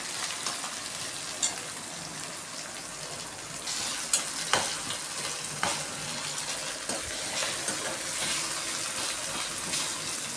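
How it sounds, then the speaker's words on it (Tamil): Onion and tomato sauté in a pan for a banana stem poriyal, giving a steady close sizzle with occasional sharp scraping stirs and clinks over the hiss. "அதுக்காக தான் இந்த வெங்காயம் தக்காளியும் நல்லா டீப்பாக வதக்கிறது."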